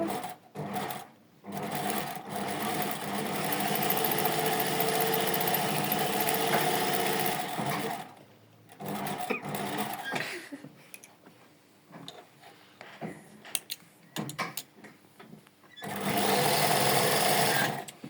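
A sewing machine stitching lacing in rapid continuous bursts, stopping briefly between runs, including a short reverse stitch, loud and close with no talk.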